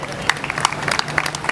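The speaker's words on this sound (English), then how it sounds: "can we get a round of applause for the Roaming Buffalo?" An outdoor crowd at a food truck competition claps and applauds for the Roaming Buffalo food truck, a steady patter of many hands with scattered sharper claps and a faint voice beneath.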